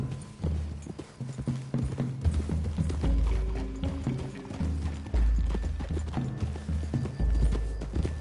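Horses walk through trees, hooves clip-clopping in an uneven, overlapping rhythm close by, with occasional thumps and creaks of tack mixed in.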